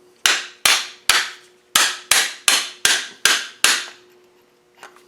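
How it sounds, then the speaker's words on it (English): Eight sharp metallic hammer taps on a deep socket, tapping a part onto a gearbox during reassembly, in a steady rhythm, close and loud, followed by quiet. "Now I think I'll tap that on with the socket."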